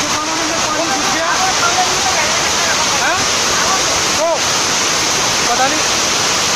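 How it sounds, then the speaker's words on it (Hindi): Kempty Falls on the Mussoorie road, flooded after a sudden surge, roars with a loud, steady rush of fast water that fills the whole stretch, while faint voices or bird calls break through now and then. "बहुत तेज पानी तेज आ रहा है"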